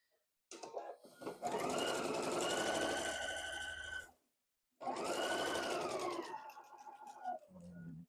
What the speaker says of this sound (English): Now we just sew down.